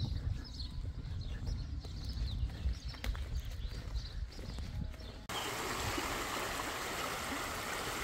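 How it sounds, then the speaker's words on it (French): The small Aumignon river flows with a soft, steady rush that turns into a louder, broadband wash of running water for the second half. "Et je te présente la petite rivière qui s'appelle Aumignon."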